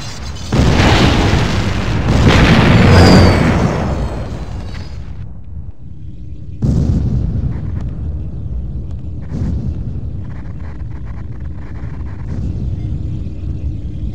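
Explosions tear apart Kane's temple in Command & Conquer: heavy, loud booms come in several separate bursts, each fading into a rumbling tail between blasts.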